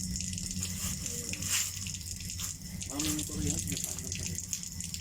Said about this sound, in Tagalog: Ang hina naman pala ng tubig eh